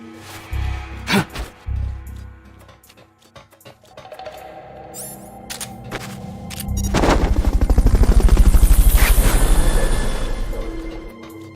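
A helicopter in the video game Metal Gear Solid: Peace Walker builds into a loud, rapidly pulsing rotor roar after scattered sharp game bangs, swelling and then easing toward the end.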